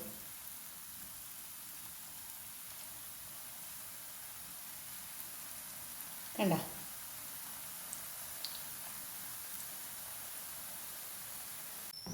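Boondi batter drips into hot oil and fries with a steady soft sizzle and hiss, broken by one brief clatter midway and a few faint clicks.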